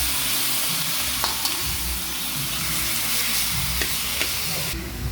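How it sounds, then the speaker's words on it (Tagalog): Pork ribs sauté in a pan with ginger and onion, giving a steady, close sizzle with occasional stirring clinks and scrapes throughout. "Ngayon guys, ready na to para ilagay natin yung mga buto-buto. Gisahin lang natin siya guys."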